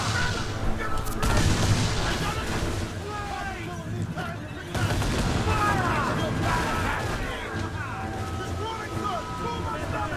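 Naval cannon fire in an Assassin's Creed IV sea battle booms amid rushing wind and water, with voices shouting over the continuous roar.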